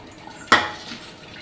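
A single sharp metallic clink rings out as a utensil strikes a pan or bowl while paneer tawa fry is transferred into a bowl, with a brief fading ring and quiet surroundings.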